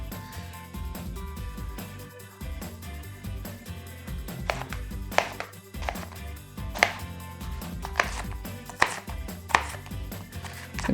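Onion is chopped with a knife on a cutting board in steady, close, crisp strikes that come in short bursts, with low kitchen noise underneath and no talking.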